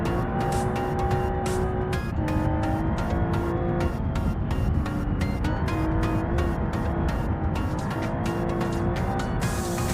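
A rally car in the BeamNG driving game slides through a drift on the Pikes Peak hillclimb, its engine droning at a steady, loud pitch with wavering harmonics and a continuous tire-squeal texture throughout.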